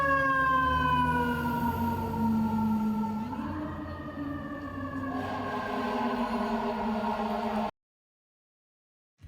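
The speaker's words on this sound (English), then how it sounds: "This is the American fire engine." An American fire engine siren wails steadily, rising in pitch partway through with overlapping tones, loud and sustained before cutting off abruptly.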